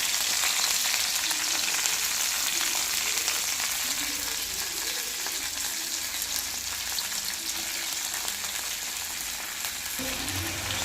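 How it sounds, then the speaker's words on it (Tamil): Okra fries in oil in a kadai with a continuous dense crackling sizzle, steady and close throughout with only slight variation. "ஒரு கடாயில் எண்ணெய் ஊற்றி ஃபஸ்ட்டு நம்ம இந்த வெண்டைக்காவை மட்டும் நல்லா நேரமாக அந்த வலுவலுப்பு தன்மை போகிறதுக்காக நல்லா நம்ம அதை மட்டும் வறுத்துக்கலாம்."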